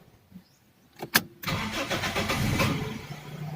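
A Toyota Corolla AE101 with a 4A-FE engine and a cold-start, hard-starting problem cranks in a couple of sharp bursts, then catches into a loud, steady, rough idle running close by.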